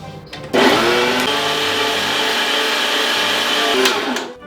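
A kitchen machine grinds meat in a rotating bowl for a tajine, its motor starting abruptly into a loud, steady whirring hum that holds for several seconds before winding down.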